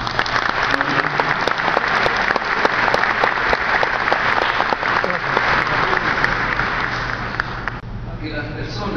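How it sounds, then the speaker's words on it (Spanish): Sustained audience applause in a hall of the Peruvian Congress during an award ceremony, steady dense clapping running loud for about eight seconds before tapering off at the end. "Un aplauso."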